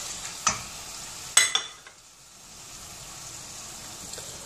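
Chicken breast drops into a pan of sizzling onions with a couple of sharp sizzling bursts, then a softer steady fry continues beneath.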